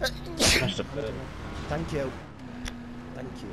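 A sneeze bursts out early during a casual online racing game session, loud and close, followed by people chatting and thanking over voice chat.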